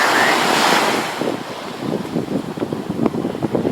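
Ocean waves and wind at Aquatic Park, San Francisco: a loud rush of breaking surf with heavy wind buffeting the microphone, easing into choppy splashing water close by.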